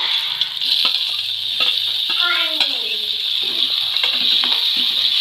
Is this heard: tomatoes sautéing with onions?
yes